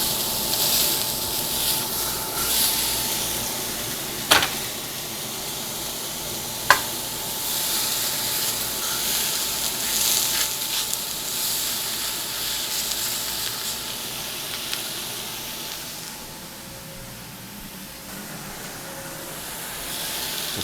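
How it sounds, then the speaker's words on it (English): Steak sizzles steadily in a hot pan, a continuous crackling hiss with a couple of faint clicks, no voices. "It's gonna get a little bit smoky, but let's watch them sizzle."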